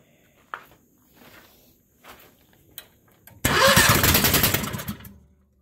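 Bobcat skid-steer loader fitted with a swapped Predator small engine, smoking and without a proper muffler, cranks after a few footsteps and clunks, then catches and runs loud and rough for a couple of seconds before fading.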